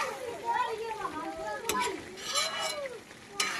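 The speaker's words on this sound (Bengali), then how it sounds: "আর এখানে আমি মাটনটা এখন আর কি কষাচ্ছি, ভালো করে কষিয়ে নেব" Mutton is stir-fried (kosha) in a pot on a hot day, with a close, continuous sizzle and the scrape of a spoon stirring, broken by a few sharper clanks against the pot.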